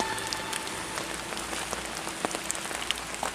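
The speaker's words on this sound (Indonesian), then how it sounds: "Hujan guys." Steady rain falls and patters on surfaces outdoors near paddy fields and an abandoned house, a dense continuous hiss with scattered sharper drips, fairly close and unbroken, with no talking.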